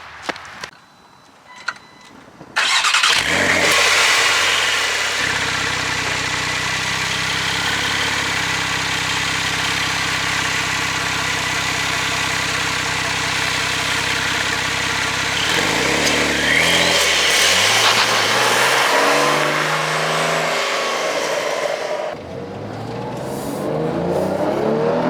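A 2024 Porsche Carrera T fires up after a few quiet clicks, settles into a steady idle, then swells through several sharp revs before dropping back and cutting off; close and loud throughout.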